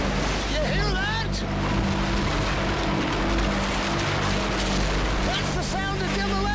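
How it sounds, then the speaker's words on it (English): Heavy machinery pulling down a house produces a constant loud rumble and grinding, with scraping and crunching over the drone. People exclaim and talk over it. "That's the sound of demolition."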